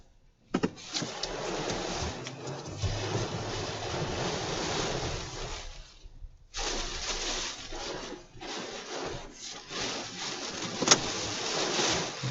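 Hurricane Delta's eyewall wind in Louisiana roars in strong gusts, a broad rushing blast that drops out briefly, then surges back with buffeting bursts against the microphone.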